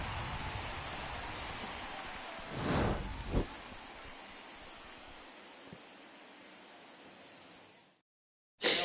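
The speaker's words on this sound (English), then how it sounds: "The rain is here, and it doesn't look like it's going away anytime soon." Steady broadband rain pours down through a rain delay at a baseball game in MLB The Show 23, a continuous hiss with a couple of brief louder swells before cutting to silence near the end.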